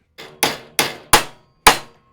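Four sharp metallic hammer blows on sheet metal ring out at a steady rhythm, each strike bright and clanging with a short decay.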